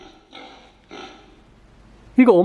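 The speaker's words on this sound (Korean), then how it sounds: "엄마 돼지장아. 꿀꿀." A person talks, then a short, loud electronic pig oink plays from a children's sound book right at the end.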